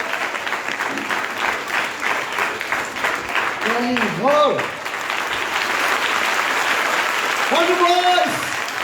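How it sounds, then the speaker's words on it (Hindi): Children clap loudly and steadily at a church Vacation Bible School session, a dense, sustained burst of applause with excited voices calling out over it. "एकदम जोरदार तालियां"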